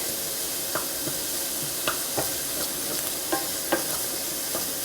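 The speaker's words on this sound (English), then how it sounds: "This is a nice hot pan, so everything's just doing beautifully quickly." Sausages fry in a very hot pan with a steady loud sizzle and hiss, broken by repeated stirring or scraping clatters, and no talk.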